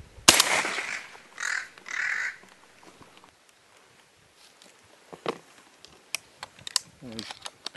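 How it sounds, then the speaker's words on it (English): Crows caw overhead during a crow-shooting outing in Ireland, a few separate calls early on followed by scattered, fainter caws and small clicks against a quiet field background. "Despite the sky starting to fill up with troublesome birds, Jason takes a moment"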